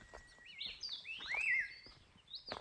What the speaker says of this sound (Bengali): পাখির ডাক শুনতে পাচ্ছি কিন্তু কোনো পাখি দেখতে পাচ্ছি না।